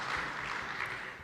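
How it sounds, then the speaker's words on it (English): Audience applause at a civil society forum in Uganda, a short burst of dense clapping from a seated crowd, fairly loud and even, with no speech over it. "Please clap again for Stephen"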